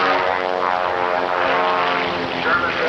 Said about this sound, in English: The Fiesler Storch preparing to take off.